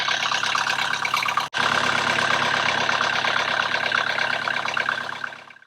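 A sailboat's inboard engine runs steadily at around 1500 RPM, a close, loud, continuous mechanical drone with a brief cut-out near the start and a fade at the end.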